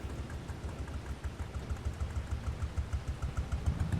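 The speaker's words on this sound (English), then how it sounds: "Our nice little tractor here." Tractor engine idling in Farming Simulator 25, a steady low mechanical rumble with a faint rhythmic clatter, moderately quiet and continuous throughout, with no talk over it.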